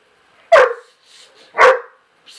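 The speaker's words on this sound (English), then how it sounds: "Mama said no bark." A dog barks twice, sharp and close, with a short pause between the barks.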